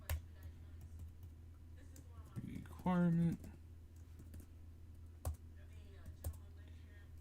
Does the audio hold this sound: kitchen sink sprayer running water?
no